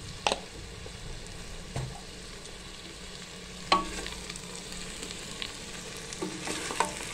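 Vegetables for veg biryani are stir-fried in a pan with a faint continuous sizzle, while a spoon scrapes and stirs in several sharp clacks spread through the clip, close and quiet, with no talking.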